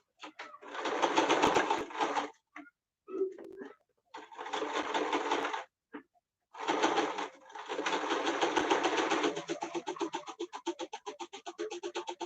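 Sewing machine running a regular straight stitch through elastic on a form-fitting fabric face mask, in several loud bursts of rapid mechanical whirring separated by short pauses, ending in slower distinct stitch clicks.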